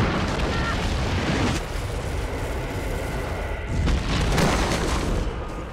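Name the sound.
anti-personnel landmine explosion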